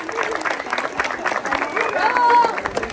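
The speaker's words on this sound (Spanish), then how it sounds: "Un fuerte, fuerte, fuerte aplauso" Applause and cheering rise from a crowd at a neighbourhood church festival, a dense, sustained clatter of clapping with babbling voices mixed through it.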